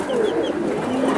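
Giribaz pigeons coo softly in a short, close burst of low, rolling throaty calls, with other bird sounds faintly around them.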